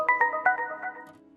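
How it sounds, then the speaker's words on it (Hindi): A mobile phone ringtone plays in a home, a repeating melodic electronic tone with several bright pulses in quick succession that fade out after about a second, heard alone without talk. "अम्मी कब से फोन बज रहा है आपका?"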